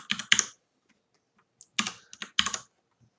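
A password is tapped out on a computer keyboard in two quick bursts of close keystrokes, separated by a pause of about a second.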